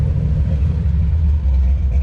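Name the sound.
Ford Thunderbird V8 engine rumbling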